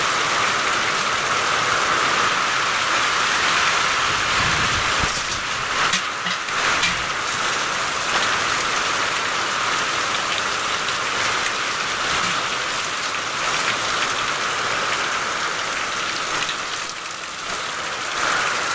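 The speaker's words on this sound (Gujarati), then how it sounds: "મિત્રો જુઓ વરસાદ ચાલુ થઈ ગયો છે" Heavy rain pours down in a village, a dense, loud, continuous roar of water hitting surfaces that stays steady throughout.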